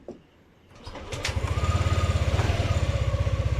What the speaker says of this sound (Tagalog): So try mo nating i-on yung engine.